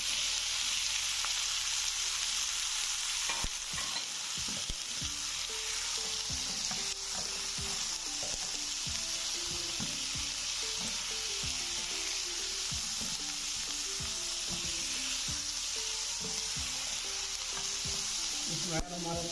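About half a kilo of boneless chicken cubes fries loudly with browned garlic for masala chicken pasta, a dense continuous sizzle broken by repeated stirring clacks and scrapes from a spoon in the pan.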